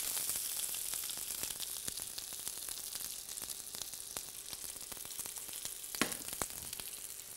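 Butterflied shrimp searing in butter in a hot pan, a steady close sizzle with scattered crackles and pops and one brief louder burst near the end, no voices.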